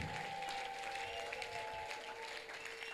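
A church congregation applauds and cheers in acclaim of Jesus, a dense, steady wall of clapping with crowd voices that holds at full volume throughout, with a sustained tone ringing above it.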